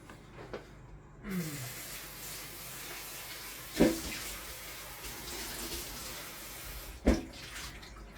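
A De'Longhi ECAM 650.85.MS espresso machine runs a rinse cycle, giving a soft, steady hiss of water flowing inside, broken by two brief louder gurgles or spurts; no one speaks.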